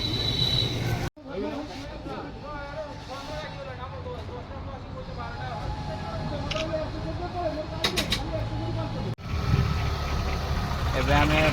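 A new TVS Jupiter 110cc scooter's engine hums at a low, even idle or cruise, fairly close, with people talking over it and a brief break partway through.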